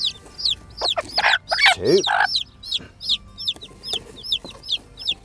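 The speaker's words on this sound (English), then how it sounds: "what we're going to do is we're going to put the chicks in first" Chickens cluck and chirp close by as chicks are moved into a broody coop, with peeping calls from the chicks, louder hen clucks and a brief spoken count in the middle.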